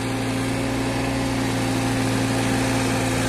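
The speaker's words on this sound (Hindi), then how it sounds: "अभी फिर से हम चाचा दोबारा ला रहे हैं ट्रैक्टर" A Sonalika DI 35 tractor engine runs steadily while pulling an opened 8x8 harrow through mud in the morning, giving a constant loud, close droning hum with no talk.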